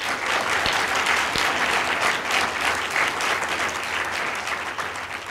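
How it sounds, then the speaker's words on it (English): An audience at a climate symposium gives a round of applause, a dense, loud burst of clapping that carries steadily for several seconds with no talk over it. "let's give her a round of applause."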